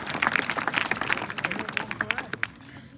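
A group claps loudly for staff members at a gathering: a dense, close burst of overlapping hand claps that thins out and stops after about two and a half seconds, with faint voices mixed in.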